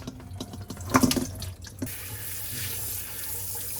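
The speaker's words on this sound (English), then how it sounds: "We'll take these to the sink and rinse them with water real quick." Running tap water in a kitchen sink as a spice bundle is rinsed, starting with a few clunks and splashes, then settling into a steady, hissing stream of flowing water, fairly quiet and close.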